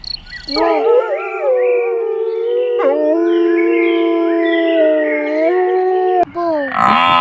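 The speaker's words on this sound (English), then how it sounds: "Wolf." A wolf howls in a long, sustained wavering tone, breaking once and rising again into a second drawn-out howl, loud and close with no talking.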